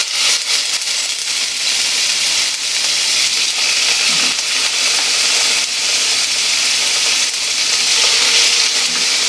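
Vegetables and chicken sizzle in a pan with just a little cooking oil, a loud, steady crackling fry with faint stirring scrapes throughout.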